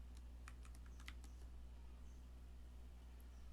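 Keys clatter in quick irregular bursts on a computer keyboard as a company name is typed, faint and close against a steady low hum, with no talk.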